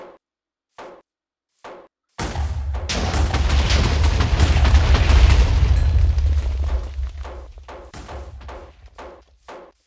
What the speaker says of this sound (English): Finally, the Granada, or grenade.